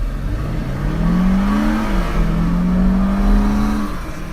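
A 2018 Range Rover Evoque, a 4,000-pound SUV with a 237-horsepower 2-liter turbo engine, accelerates hard with a loud, close engine drone that rises in pitch, dips briefly at a gear change, then climbs again.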